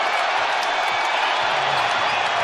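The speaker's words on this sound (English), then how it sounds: "this sold-out crowd thundering its approval" Sold-out arena crowd roaring at an NBA basketball game between the Cleveland Cavaliers and Minnesota Timberwolves, a dense, loud, sustained wall of cheering with no break.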